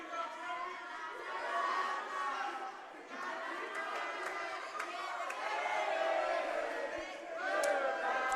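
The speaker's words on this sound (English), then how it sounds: "This crowd definitely letting Enforcer hear it." Wrestling arena crowd roars steadily at a departing wrestler, a dense wash of jeers, shouts and chatter with occasional sharper cries rising out of it, loud and sustained throughout.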